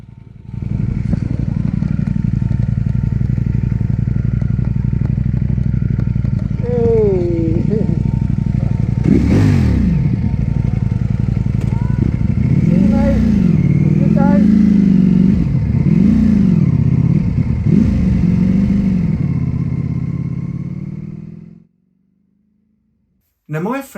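A Ducati Panigale V4S motorcycle engine idles loud and close, then revs up in several sharp, rising blips with a rough, throaty bark between them before cutting off near the end; a voice can be heard partway through.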